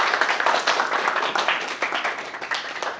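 An audience at the WORLDEF Istanbul 2024 event applauds, a dense, steady patter of many hands clapping for three seconds, fairly close and with no talk over it.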